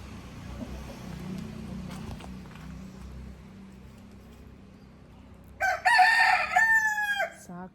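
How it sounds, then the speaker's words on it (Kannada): A rooster crows once in the morning, loud and near, a long cock-a-doodle-doo rising out of quiet outdoor background with faint rustling and a passing car beforehand. "ಸಾಕು ಬಿಡು ಕೋಳಿ, ಬೆಳಗ್ಗೆನೇ ಆಗಿದೆ ಆಗಲೇ. ಈಗ ಕೊಕ್ಕೋ ಅಂತ ಇದೆ."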